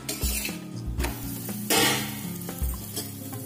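Aloo paratha roasting in ghee on a hot griddle, pressed down lightly as it cooks: a steady close sizzle with soft scraping and pressing thumps at irregular intervals, no voices.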